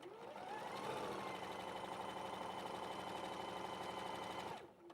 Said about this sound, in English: I'm just going to put it through, do my 1/4 inch seam